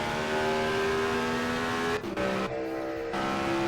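In a racing video game, a Lotus race car on the 1964 Trenton 150 oval drones past at high revs with a steady engine whine, shifting pitch as it goes by, with no talk.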